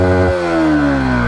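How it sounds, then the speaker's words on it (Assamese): A Yamaha R15 V3 motorcycle with unchanged engine oil sends out a loud, steady exhaust note. The buzzing engine tone drops slightly in pitch after a brief rev near the start, and no one talks over it. "তোমালোকক এক্সজষ্ট নোটটো শুনাই দিছোঁ"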